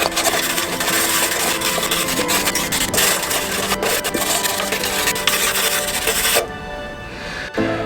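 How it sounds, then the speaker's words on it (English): Steady, harsh abrasive scrubbing of wire wool on a drill against a Lotus Evora exhaust, continuous and loud, stopping abruptly near the end. "There's been a lot of wire wool with the drill."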